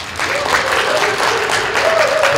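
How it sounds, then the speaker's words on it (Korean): Steady applause from an audience at a Korean public-transport workers' union forum, dense clapping filling the room with a faint voice tone running underneath. "박수가 작습니다"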